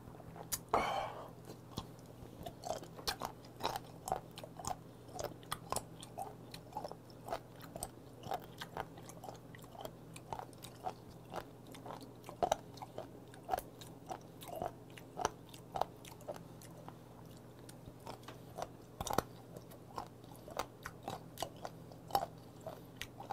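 Red sea cucumber dipped in garlic oil and salt being chewed: soft, steady wet mastication with small crunchy bites, close and quiet, repeating throughout under a low background hum.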